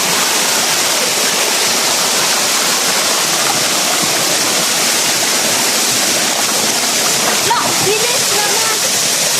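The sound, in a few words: Ambaktubig waterfall rushing water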